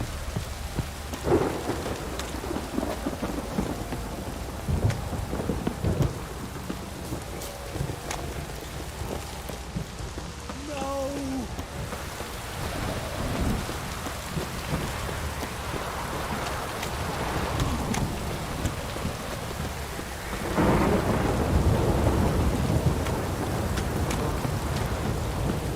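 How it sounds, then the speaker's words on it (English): Heavy rain pours down steadily while thunder rumbles, with the downpour growing even louder toward the end. "This downpour's a bastard"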